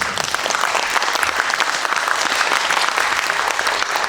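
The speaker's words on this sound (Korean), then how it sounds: "두 분에게 박수 한번 보내주시죠." A room full of people at a forum about the Pyeongtaek Art Center claps steadily, dense and loud applause sustained throughout without pause.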